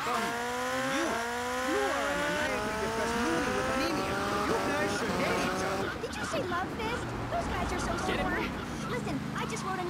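A motorcycle in the video game GTA Vice City whines through rising and falling revs, with tire squeals and other game traffic mixed in, continuous and loud from start to finish.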